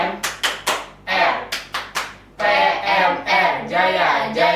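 A PMR group's rhythmic clap chant: bursts of sharp hand claps in a patterned beat alternate with loud chanted voices, close and lively.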